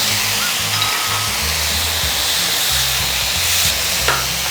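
Tomatoes sizzle and hiss steadily in a hot pan, with occasional faint scraping from stirring.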